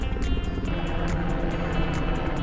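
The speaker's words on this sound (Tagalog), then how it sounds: "Ah, ito na naman. Helicopter." A helicopter flies over a seaside pier, its rotor giving a steady loud rhythmic thudding over a constant engine roar close overhead.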